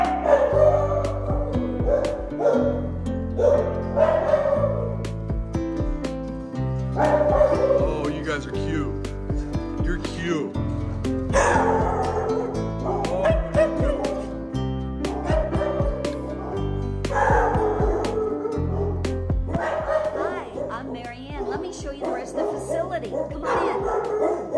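Dogs bark in the indoor kennels of Lucky's Place, a Star Valley animal shelter. Repeated bursts of barking rise over a steady, busy background, and a person talks throughout.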